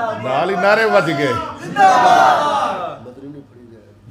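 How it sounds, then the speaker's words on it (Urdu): A crowd at a religious Khatm-e-Nubuwwat gathering chants slogans in loud unison: two long swelling shouts of massed voices, close and strong, fading near the end. "نعرے"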